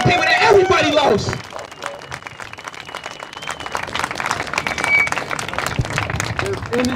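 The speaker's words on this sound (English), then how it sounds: "Clap it up for yourselves." Scattered clapping from a crowd at a street protest on a Chicago expressway, moderately loud and uneven, with a person talking over it at the start and end.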